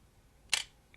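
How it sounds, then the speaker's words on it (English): A camera shutter opening and closing, one sharp mechanical snap in the middle followed by a faint small click, close and isolated in a quiet room. "I'm going to click this, and you're going to see the shutter open and close."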